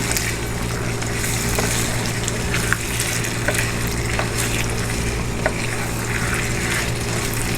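Mutton frying in a pot for white mutton korma, with a steady broadband sizzle and occasional stirring clicks, continuous and fairly loud throughout with no talking.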